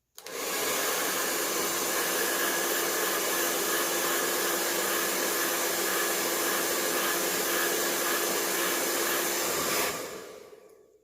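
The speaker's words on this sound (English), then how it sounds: "I'm going to remove my blow dryer from my armpit holder, and I'm going to heat this section of hair" A blow dryer heating a section of 4c hair runs steadily with a loud, even whoosh and whine for several seconds, then switches off.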